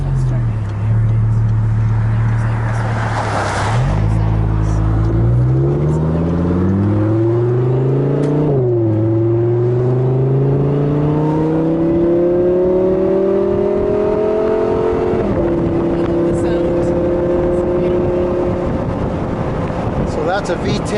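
Audi R8 V10 engine heard from inside during a ride, loud and close, pitch climbing steadily through gears with a brief shift dip before settling into a steady higher drone.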